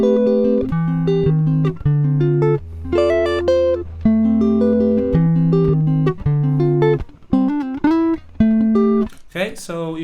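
Dry electric guitar with no effects, no delay or reverb, playing a riff: a steady, clean melodic line of plucked notes ending in a short scrape of the strings.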